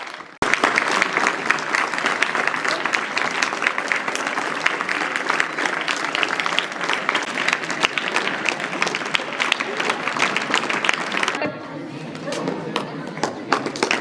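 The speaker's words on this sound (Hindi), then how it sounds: "जोरदार तालियों से स्वागत करिए" Audience at a Teacher's Day celebration at JNV Mandla applauding a teacher onto the stage, dense loud continuous clapping from a large crowd that thins slightly near the end, with voices mixed in.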